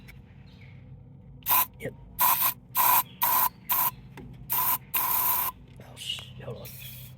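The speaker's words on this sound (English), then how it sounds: "Nice little stream of WD right down the plug hole." WD-40 sprayed in short, sharp hissing bursts into the spark plug hole of a seized Husqvarna 141 chainsaw, about eight close, loud spurts in an uneven rhythm, with a brief spoken word.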